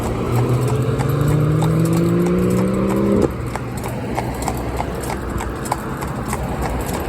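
A Fell pony's hooves clip-clop steadily on a road, a regular nearby beat while a passing vehicle's engine tone rises and then cuts out partway through.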